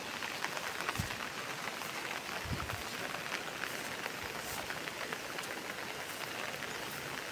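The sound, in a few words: heavy torrential pre-monsoon rain in a village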